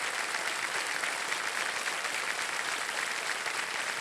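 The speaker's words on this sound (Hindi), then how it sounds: "तालियां बज जाए एक बार फिर" Studio audience applause on an Indian TV quiz show after a contestant wins 50 lakh rupees, a dense, steady wash of many hands clapping that stays loud and unbroken throughout.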